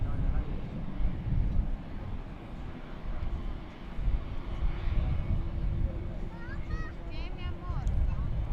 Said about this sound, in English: It's an Airbus A321 in the late afternoon sun.